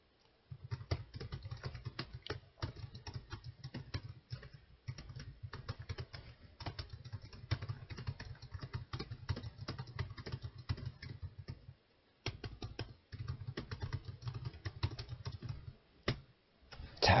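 Rapid, steady clatter of typing on a computer keyboard during a PowerPoint exam exercise, with dense key taps running almost continuously and one short pause midway; close and fairly quiet, no voices.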